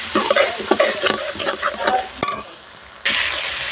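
Cauliflower cooking in a pan with peanut paste, with irregular scraping stirs and sizzling close by, then a brief pause before a steady hiss resumes.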